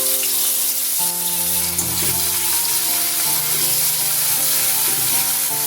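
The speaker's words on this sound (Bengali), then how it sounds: "এবার পেঁয়াজ কুচি দিয়ে নিচ্ছি।" Chopped onion added to hot oil with a halved dried red chilli and a little sugar for a street-style Kolkata egg curry, a steady close sizzle running the whole time with faint stirring.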